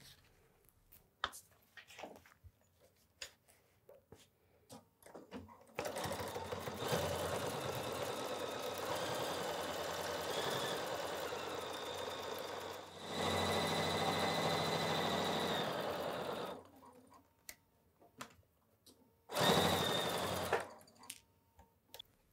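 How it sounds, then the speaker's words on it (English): A sewing machine runs in two long, steady bursts, top stitching down a vinyl quilt-as-you-go project bag, then a short third burst, with quiet handling clicks in the pauses between runs. "I'm going to top stitch here all the way down"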